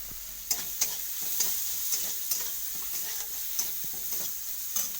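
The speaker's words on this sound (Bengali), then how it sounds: "রসুনটা ভাজা হওয়ার পরে আমি কিছুটা হলুদ দিয়ে দেবো" Garlic and turmeric sizzle steadily in hot oil, with a spatula scraping and stirring the pan in regular strokes every half second or so, close and moderately loud.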